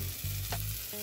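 Butter melting in a pot for handi chicken, giving a steady, close frying sizzle with soft crackles and a faint background hum throughout.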